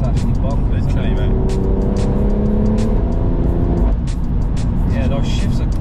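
A 4WD-swapped BMW M140i with an upgraded gearbox accelerating hard, its engine note climbing and dropping with quick gear shifts, loud and close from inside the car, with people talking over it.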